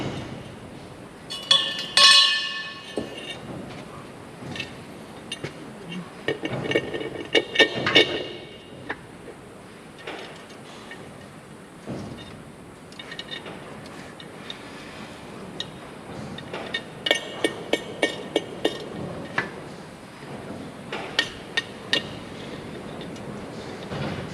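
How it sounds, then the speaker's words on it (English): An air cleaner being refitted onto the engine of a Chevrolet Nova Super Sport, heard as scattered light metallic clinks and taps, with a quicker run of sharp clicks near the end, close by in a quiet garage. "let's put the air cleaner back on it also"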